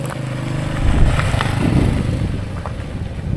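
A Honda Cub S65 motorcycle with a repaired engine, missing its second gear, rides off under steady engine drone with a small rise in revs, fairly close and continuous.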